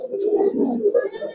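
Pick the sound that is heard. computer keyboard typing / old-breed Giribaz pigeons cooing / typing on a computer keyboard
old-breed Giribaz pigeons cooing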